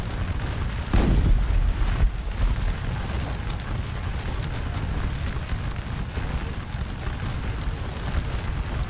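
Musket fire from skirmisher units hidden in trees in the Napoleonic battle game Scourge of War Waterloo, at Quatre Bras: a heavy boom near the start, then scattered distant shots crackling steadily under a low rumble.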